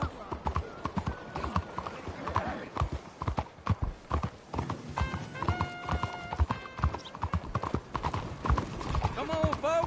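A horse in Red Dead Redemption 2 trotting with rapid rhythmic clip-clop hoofbeats, close and loud, joined midway by a high whinny, while a voice speaks over it.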